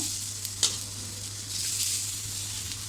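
Chopped onion is dropped onto a well-heated tawa for a coconut-onion masala paste. It sets off a steady, bright hiss of sizzling with a single soft tap near the start.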